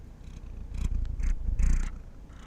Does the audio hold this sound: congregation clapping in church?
no